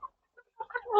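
Free-range village chickens cluck in a few short, soft bursts close by, quickening at the end.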